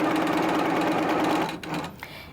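A sewing machine stitches quilting fabric toward a pin, its fast steady needle whir running loud and close for about a second and a half before slowing and stopping.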